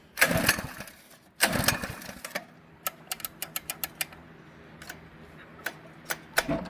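An Earthquake rototiller's small engine pulled on choke gives two loud bursts of sputtering and cranking, then settles into a string of sharp ticking pops and short catches as it tries to start.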